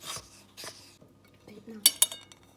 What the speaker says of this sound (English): We're going to go in with the sugar first and give that a mix